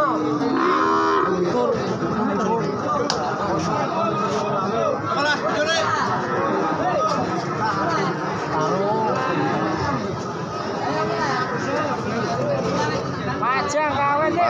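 Cattle lowing at a cattle market in Tuban, East Java, with PO calves from Rembang on sale; repeated loud moos ring out over a constant hubbub of crowd chatter and nearby voices.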